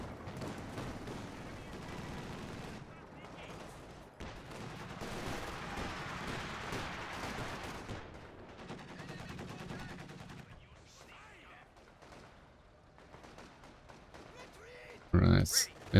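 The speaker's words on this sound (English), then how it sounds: "The MG42 again," MG42 machine gun fire in a competitive match of a World War II shooter game rattles in sustained bursts at moderate distance, with commentators talking over it.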